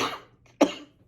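Two coughs from a person with a lingering cough, a softer one at the start and a sharper, louder single cough a moment later, close and alone.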